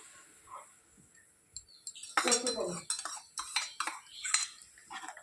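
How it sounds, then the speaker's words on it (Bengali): Ginger, garlic and chilli stirred into boiling water in a pot, starting quiet and then breaking into a close run of clattering metal scrapes and clinks from a spoon against the pot, with no talking. "এগুলো একটু নাড়ি চাড়িয়ে দেবো"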